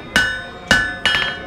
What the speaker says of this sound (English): Just a hammer.